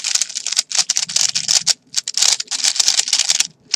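Rapid, uneven keystrokes on a mechanical keyboard with LingYun v1 switches in a slightly different plastic, giving a deeper tone. The close clicks come in quick bursts with brief pauses and no voices.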